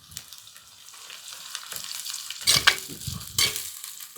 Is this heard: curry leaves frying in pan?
yes